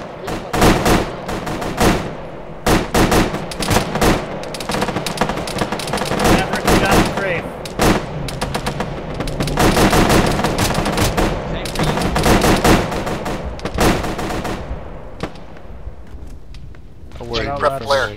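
Bursts of automatic and single-shot infantry gunfire crackle throughout a firefight in the military video game Arma, dense and fairly loud, with radio-style voices talking over much of it.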